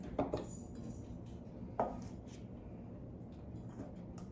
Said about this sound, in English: I'm gonna mix my dry ingredients.